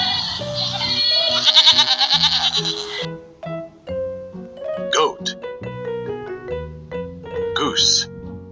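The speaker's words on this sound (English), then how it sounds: "Goat." Goat bleats with a wavering, quavering tone, a long call followed by several shorter ones, close and clear over light musical accompaniment.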